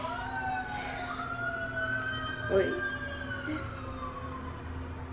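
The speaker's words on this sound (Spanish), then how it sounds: "anda fuerte la ambulancia" An ambulance siren wails outside on an early-morning street, its rising and falling tones sweeping along at moderate distance, steady throughout with a brief interjection from a voice indoors.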